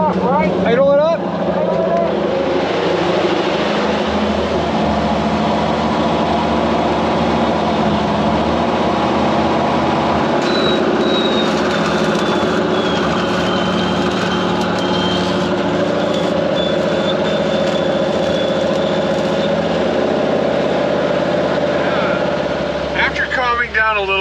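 An engine runs steadily at idle and is brought up to a higher idle, with a continuous droning rumble and a faint whine over the top, sustained for over twenty seconds before dropping off.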